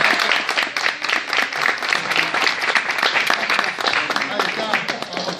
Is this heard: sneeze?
no